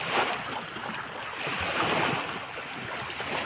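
Sea waves wash and surge out in open water far from shore, under a gusty wind roar buffeting the microphone. The swells rise and fall in a continuous, fairly loud rush, with no voices.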